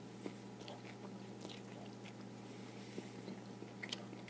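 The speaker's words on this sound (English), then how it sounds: "they can hear me chewing" Faint, close chewing of a grilled center-cut pork chop topped with marinara sauce and cheese, with soft wet bites and crunches repeating irregularly over a steady low hum.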